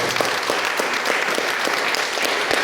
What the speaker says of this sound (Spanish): Denle palmas al Señor.